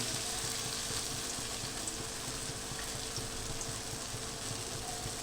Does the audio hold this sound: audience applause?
no